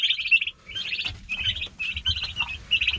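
Baby chicks chirping up close, rapid high peeping calls in short repeated bursts, with soft rustling and scratching underneath.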